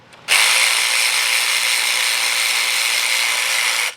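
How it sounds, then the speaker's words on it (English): Continuous buzzing whir of a power ratchet spinning out a 10 millimeter bolt from a bracket on a 2008 Honda CR-V, a single steady, loud, close burst lasting about three and a half seconds, with no talking. "We're going to remove this 10 millimeter bolt here, which gets rid of this bracket."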